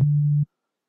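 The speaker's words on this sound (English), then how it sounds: "If I put a sine wave here" A pure synthesized sine wave tone from the Massive synthesizer, a single steady low hum lasting under half a second before cutting off abruptly into silence.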